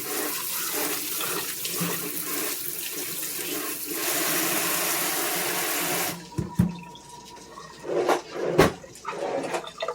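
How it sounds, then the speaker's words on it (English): Raw chicken being rinsed under a running kitchen tap: a steady hiss of flowing water for several seconds, then the stream breaks up into splashes and uneven spatters as the meat is moved under it. "We're gonna rinse the chicken off."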